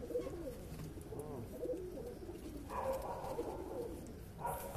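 Pigeons coo steadily and close, in repeated rolling, throaty phrases that keep going throughout over a low background hum.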